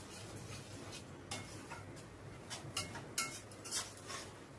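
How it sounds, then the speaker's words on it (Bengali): A spoon stirs spice paste with chicken stock in a frying pan, making faint intermittent scrapes and clinks against the metal over a low sizzle, with no talking. "ওই চিকেন স্টকটা অল্প অল্প করে দিয়ে মশলাটাকে ভালো করে কষিয়ে নেব"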